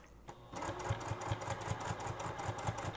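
A sewing machine stitches straight through a sweatshirt during a zip-up conversion, starting after a brief pause and then running with a steady rapid mechanical chatter, close and fairly loud, with no talking.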